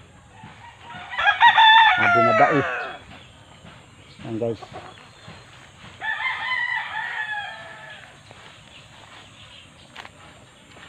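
Roosters and hens at a gamefowl farm crow in loud drawn-out calls, one strong crow near the start and another fainter one later, with clucking between and someone speaking briefly.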